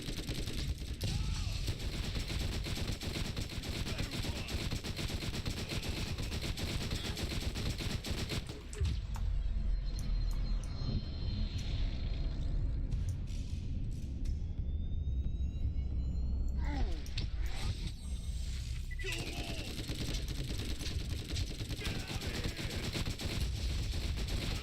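Gunfire in the shooter game Borderlands, sustained rapid bursts over a rumbling game soundtrack, loud and continuous with a brief lull in the middle, and a voice faintly in the mix.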